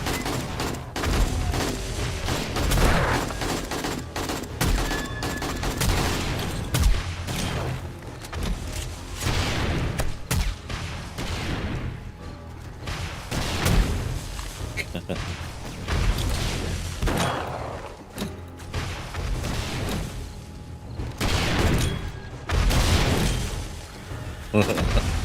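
Grenades going off in the survival game 7 Days to Die, repeated heavy booms and rattling bursts spread across the stretch, mixed with other game noise and someone talking over them.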